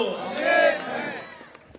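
A crowd at a political party gathering cheers and shouts together in a loud, sustained swell that peaks and then trails off, with voices raised in unison.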